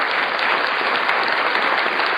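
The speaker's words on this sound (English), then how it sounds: "we just need a round of applause for that" A live audience bursts into steady, dense applause, many hands clapping at once, loud and close, with no speech over it for the full two seconds.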